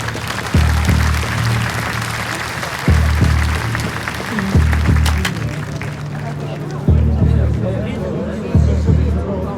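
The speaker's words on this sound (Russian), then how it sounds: "Давайте поблагодарим бойцов аплодисментами за красивый поединок" A crowd at a fighting event on water applauds the fighters in repeated bursts of clapping and cheering, with a loud amplified announcer's voice over and between them.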